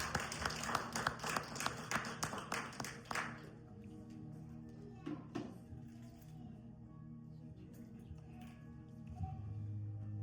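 A church congregation claps rhythmically in loud, regular beats for about three seconds, then the applause fades into scattered faint claps and quiet room noise.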